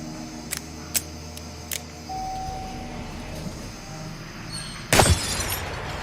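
Elevator glass in a realistic gun simulator video game shatters in one loud, bright burst after a few sharp shots and clicks, with a crash of breaking glass rising above a steady low hum.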